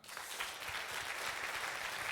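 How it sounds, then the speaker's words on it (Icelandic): Warm applause from an audience at a church youth event, a dense, even wash of many hands clapping for a couple of seconds, steady and moderately loud with no voices over it. "Gefa þessu gott klapp"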